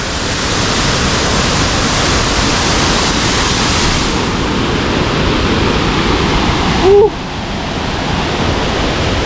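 Krathing waterfall in Chanthaburi, Thailand, roars with a steady, loud wash of rushing water that fills the whole scene, continuous and close, with a brief faint sound near the end.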